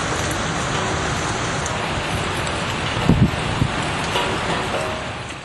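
Heavy rain pours steadily in Nantes, France, a dense, even hiss of falling water with wind buffeting the microphone and a few brief thuds partway through.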